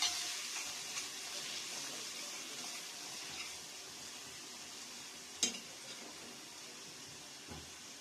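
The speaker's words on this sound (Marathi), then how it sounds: "हे छान मिक्स करायचे, छान असं परतून घ्यायचं याला।" Masala with green chilli and turmeric for homemade mutton masala sautés in a pan, a soft continuous sizzle with occasional utensil clinks and scrapes, faint and close.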